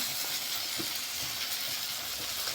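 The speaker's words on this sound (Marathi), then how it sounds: "आपण एक एक हळूहळू मच्छी याच्यामध्ये टाकतोय परत।" Bangda mackerel pieces frying in hot oil give a steady, close sizzling hiss, with faint clinks and small crackles running through it and no voices.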